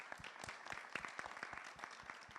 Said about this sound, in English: I'd like to give this panel a big round of applause.